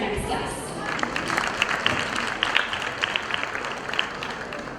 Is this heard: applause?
yes